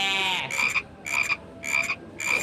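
A person imitates a frog with a voice, giving four rhythmic croaking bursts in quick succession, close and fairly loud, with no other talk.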